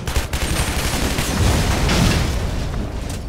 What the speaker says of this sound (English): Big explosions. That explodes.